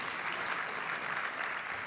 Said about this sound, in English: So I'd like to give Ralph and Peter Meyer a big round of applause.